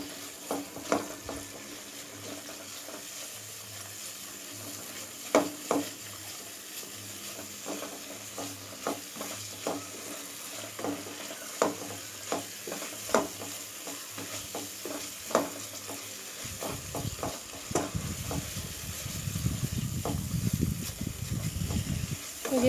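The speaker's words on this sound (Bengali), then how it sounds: "মশলাটাকে ভালো করে কষতে হবে যতক্ষণ না মশলা দিয়ে তেল বেরোচ্ছে।" Spice paste sautéed in oil for a vegetarian Bengali jackfruit curry: a spoon scrapes and stirs in steady repeated strokes against the pan, giving way to a louder, continuous close sizzle toward the end.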